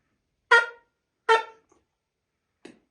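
Trembita, the long Hutsul alpine horn, blown in short tones: two clear, bright horn blasts about a second apart, then a weaker, thinner third note, close up with no talking between them.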